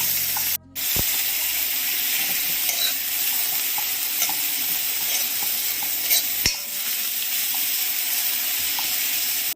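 Mustard seeds, red chillies, curry leaves and chopped onion fry in hot oil with a constant close sizzle, broken by a few stirring scrapes and small pops, and one brief gap early on.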